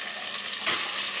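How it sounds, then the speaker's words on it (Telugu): Frying in oil in a pan while cooking stuffed brinjal curry, a steady close sizzle and crackle that swells slightly louder partway through, with no talking. "2 మినిట్స్ ఫ్రై చేసుకుని"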